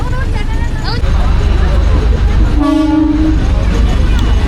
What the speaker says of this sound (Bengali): এই ট্রেনেরই অপেক্ষা ছিল ট্রেন চলে আসলো